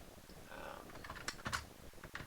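A short burst of quick keystrokes on a computer keyboard while code is being typed, close and fairly soft, with clicks clustering near the middle.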